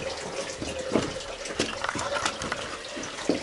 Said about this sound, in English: that's natural water running through there in the channel under the floor